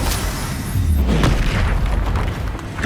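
A Descendo spell strikes in Hogwarts Legacy on PS5, landing as a loud, deep booming impact with a low rumbling slam that swells through the middle of the clip over a dense game soundscape.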